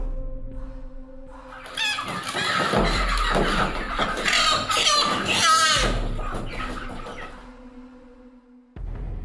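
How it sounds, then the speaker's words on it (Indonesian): A freshly slaughtered chicken struggles, giving loud, close squawks and frantic clucking for several seconds before it falls quiet over a low background hum. "Ronta seekor ayam yang baru saja disembelih oleh Dirgo."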